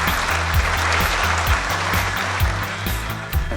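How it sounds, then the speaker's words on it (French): An audience at a sports club awards ceremony applauds, sustained clapping with a steady rhythmic pulse running throughout, fairly loud and even, with no talk over it. "Laurent Bataille, vous pouvez l'applaudir encore, et Sylvie Grandjean."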